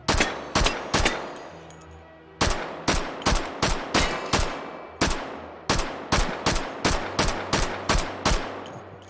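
An open-bolt submachine gun in the VR game H3VR fires single shots, about twenty sharp, loud cracks in uneven clusters with short ringing decays and brief pauses between them.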